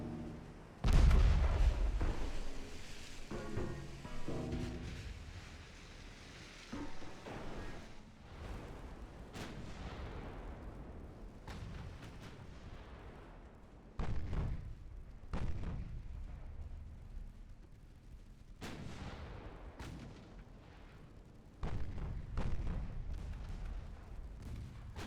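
Naval guns in a warship battle game, Ultimate Admiral Dreadnoughts, fire repeatedly in foggy conditions, giving a string of deep booming shots at irregular intervals, some heavy and close, others fainter, each trailing off in rumbling echoes.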